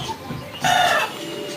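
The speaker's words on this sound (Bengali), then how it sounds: "এগুলো অরিজিনাল টাইগার মুরগি" Tiger breed chickens on a farm, with a burst of clucking or crowing that rises loud in the middle and then drops back to quieter farmyard background.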